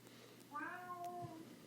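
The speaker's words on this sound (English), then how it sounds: "can you hear my kitty?" A single cat meows once, a short rising-and-falling cry, fairly faint and close.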